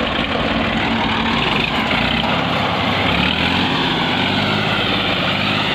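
A Massey tractor engine runs loud and steady close by as the tractor sits stuck in deep ground in a Pakistani village, giving a continuous rough, heavy drone with no pauses or talk.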